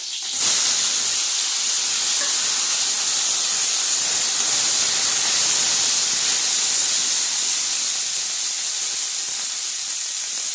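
Pea greens and vegetables are dropped into hot oil tempered with five-spice seeds and green chillies. A sudden burst turns into a loud, steady hiss that fades slightly over ten seconds.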